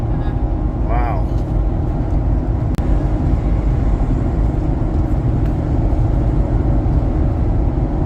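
A Ford F250 Tremor truck drones along steadily while pulling an open trailer, with a constant low road and engine rumble from inside the cab and a voice talking over it.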